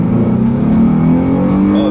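A 2013 Lexus GS 350 engine accelerating hard from 0 to 60 mph at high altitude, a loud, steady, rising engine drone heard from inside the car, continuous throughout with no talk.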